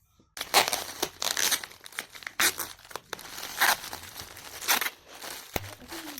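Paper crinkles and crumples as it is wrapped around a chocolate bouquet, with irregular crackling bursts, rustles and a sharp tape pull near the end, close up.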